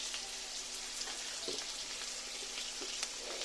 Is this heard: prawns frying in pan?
yes